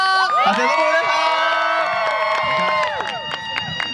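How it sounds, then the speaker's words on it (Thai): A crowd at a campus stage show in Thailand cheers, whoops and claps as a performer is introduced, with loud voices shouting over scattered applause and the noise fading somewhat near the end. "ขอเสียงปรบมือด้วยครับ"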